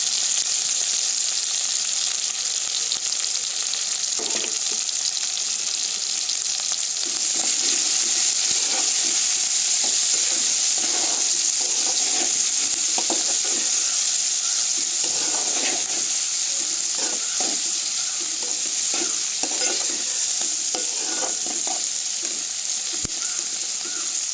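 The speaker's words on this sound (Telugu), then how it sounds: "అలాగే రొయ్య పొట్టు కూడా వేస్తున్నానండి. తేగాలండి నూనెలో." Prawn shells fry in hot oil with a steady, close sizzle throughout, dotted with light clinks and scraping as the pan is stirred.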